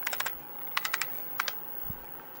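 Keys on an old 8-bit computer keyboard clack in three short bursts of quick typing, crisp and close, with quiet pauses between the bursts.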